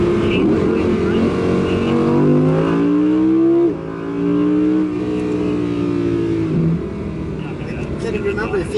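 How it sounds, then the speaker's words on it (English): An Audi R8 V10 coupé engine revs hard under full acceleration, a loud high-pitched wail climbing through gears with a brief shift dip, while people talk over it inside the car. "When you really push or floor the car, you really start to like it. It's so high pitched."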